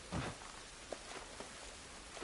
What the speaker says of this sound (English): It's raining. Puddles and shit.